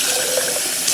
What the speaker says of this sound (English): And then I'm going to fill this jar up with water.